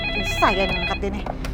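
A telephone rings briefly, close and clear, in a house, with a faint voice barely present underneath.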